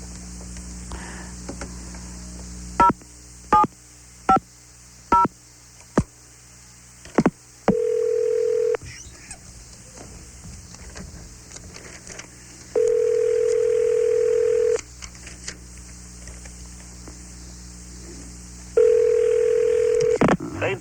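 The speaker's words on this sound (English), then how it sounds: "Let me make a phone call here." A landline-style telephone gives a series of short dialing tones followed by several sustained dial tones with gaps between them, loud and close, with brief background sounds and no clear talking over them.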